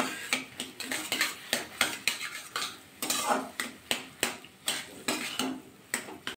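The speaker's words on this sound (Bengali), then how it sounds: "আলুটা কিন্তু ভালো করে নাড়াচাড়া করে নিয়েছি।" A spoon stirs potato filling for aloo paratha in a pan, scraping and clinking in a quick, regular rhythm of about a dozen strokes. The sound is close and there is no talk.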